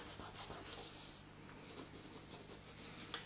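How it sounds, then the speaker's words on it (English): A worn, dirty rubber eraser scrubs steadily across a pencil drawing on paper, giving a continuous soft, close rasping rub with slight rhythmic strokes. "Let's take my mucky rubber now, and we'll rub into that just to get it a bit smoother"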